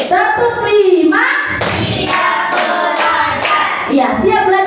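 A class of children standing up clap their hands together in a rhythmic counting pattern, the loud sharp claps coming in short groups, with a teacher's voice speaking over and between them.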